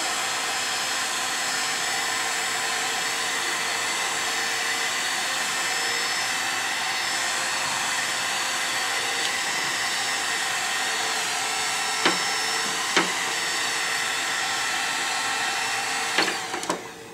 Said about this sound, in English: now I'm going to use the heat gun to shrink the shrink wrap around the soldered bits